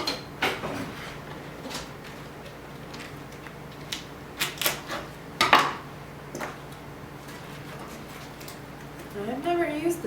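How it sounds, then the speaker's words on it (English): Knife chopping carrots, celery and onion on a cutting board in a home kitchen, giving scattered sharp knocks with pauses, mixed with clinks of kitchenware and some talk. "Going to get started with chopping."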